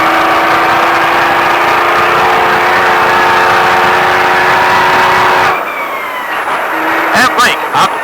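A Baja truck engine roars loudly and steadily at high revs, then drops off abruptly partway through, leaving quieter mechanical sounds and brief bursts of noise.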